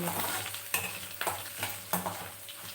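Rice semolina frying with curry leaves in a pan, a steady sizzle broken by several soft scraping strokes of a stirring spoon, close and continuous without talk.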